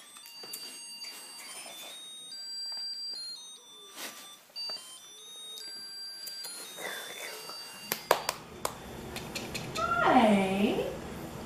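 A pet cat meows at a home with a baby, the cry rising clearly near the end after stretches of quieter background noise and beeping tones, with people talking softly nearby.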